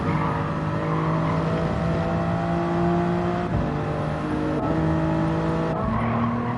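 A race car in a racing video game roars through a corner, its engine holding a steady loud whine that drops and climbs again with each gear change, joined by faint tyre scrubbing.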